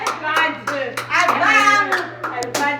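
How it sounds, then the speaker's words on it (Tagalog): Hands clap at a lively party, short sharp bursts that come and go between excited shouting and chatter from adults and children. "Palakpak."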